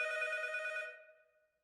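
A telephone rings once inside a video game, a bright, close, bell-like trill that holds briefly and then fades away alone.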